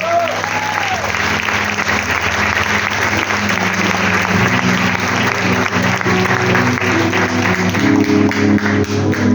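A church congregation bursts into loud, sustained applause and cheering for the Lord at a Spanish-language service, a dense wash of clapping that continues throughout, with voices mixed in.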